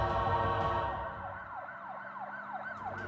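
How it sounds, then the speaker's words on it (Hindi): Police siren in a Hindi horror story, a wailing rising-and-falling tone repeating steadily over a low background rumble, moderately distant with no talk. "अचानक से दोनों को पुलिस सायरन की आवाज सुनाई देने लगी।"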